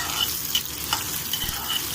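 Onions and curry leaves fry in hot oil in a Telugu kitchen cooking dondakaya chanaga pappu curry, giving a close, steady sizzle with a few light stirring scrapes.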